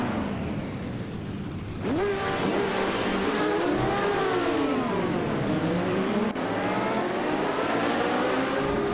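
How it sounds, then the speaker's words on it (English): Race cars in a racing video game accelerate at Sochi Autodrome, a loud, continuous engine roar whose pitch climbs and dips through gear changes as several cars rev together, with no talking. "the race just kicked off at Sochi Autodrome"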